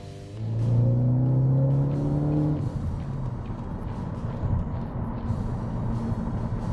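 A tuned Ford Focus ST with a COBB-tuned engine and turbo revs up in a rising harmonic whine, then settles into a low rumbling drone as it drives on, steady and moderately loud with no speech.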